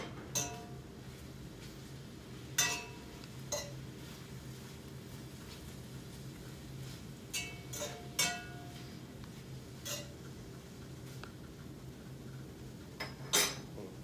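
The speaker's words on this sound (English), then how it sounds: "I'm going to go ahead and stir the meat up again" Meat for a vegetable beef stew is stirred in a pot: sparse metallic clinks and scrapes of a utensil against the pot, spaced irregularly over a low, steady background hum.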